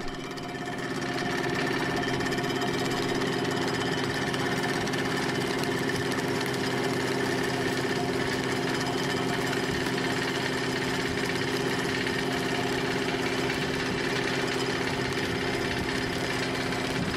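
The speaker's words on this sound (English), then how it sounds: "While the pump is running, Chris is moving the pump a couple feet back" A gasoline water pump engine runs steadily while pumping shallow water from a muddy slough, a constant close droning hum with no pauses.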